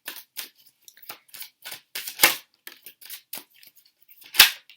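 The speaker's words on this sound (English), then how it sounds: "every time these cards shuffle, they do make a lot of noise" Tarot cards shuffled by hand in quick, crisp bursts, a series of sharp riffling snaps and flicks with short pauses between, close up and with no talk.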